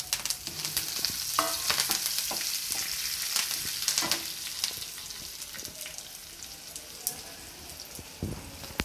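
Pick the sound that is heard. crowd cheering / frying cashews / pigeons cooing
frying cashews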